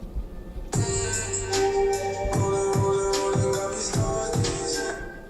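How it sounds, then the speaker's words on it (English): A steady hip hop beat plays with a sharp snare hit landing on every third pulse, backed by low kick thumps and sustained synth tones. "he just made the snare hit on every third"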